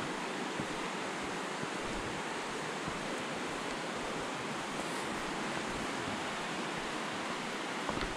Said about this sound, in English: you can hear it's actually rushing through the rocks